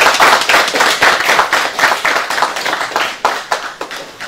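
Audience clapping at a Paris conference-debate on the reconstruction of the DR Congo: loud, close, dense hand claps in an irregular stream that fades slightly toward the end, with no voices over it.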